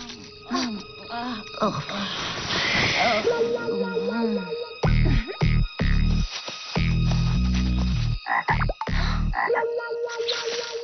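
A toad croaks outdoors in misty surroundings, repeated low croaking calls sounding through the clip with bursts of static, while a person talks near the start.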